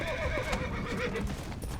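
A horse in the Red Dead Redemption video game whinnies loudly and close, with clip-clop hooves galloping steadily underneath the whole time and no talking over it.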